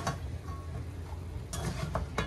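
A spoon stirring neck bones cooking in a pot, giving a few faint scraping and clinking strokes over a soft low background hum, with no talking.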